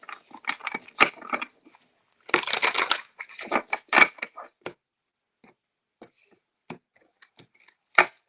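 Tarot cards are shuffled in quick riffling bursts with sharp snaps between, close and crisp, separated by short pauses.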